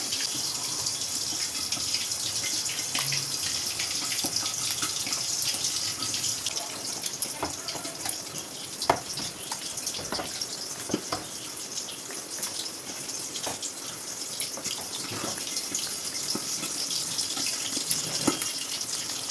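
Battered eggplant slices frying in hot oil in a wok give off a steady, dense sizzling hiss with scattered crackles and pops, close by and with no talking.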